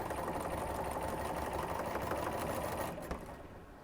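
A sewing machine chain pieces quilt blocks, running in a fast continuous whir at close range before the stitching slows and stops near the end.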